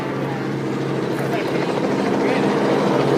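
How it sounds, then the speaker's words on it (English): An AT-6 Texan propeller aircraft makes a slow-speed pass, its steady droning engine roar loud and continuous, with a commentator talking over it. "let's watch right now as he's just hanging it right there, flying that aircraft in"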